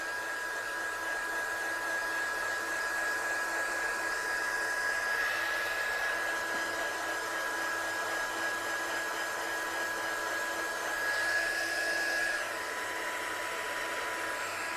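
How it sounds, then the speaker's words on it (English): An embossing heat tool blows continuously, a steady, close, hair-dryer-like whoosh with a thin whine that holds unchanged for most of the stretch before cutting off near the end. "Let's just heat set her, and then I'm going to heat emboss a wreath as well."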